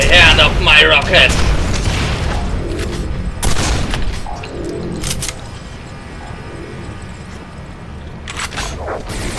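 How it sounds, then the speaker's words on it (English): Rocket explosions in Quake 4, several loud booming blasts spaced a few seconds apart, the first one heaviest, with rumbling combat noise in between. "Whoever there is, die by the hand of my rocket!"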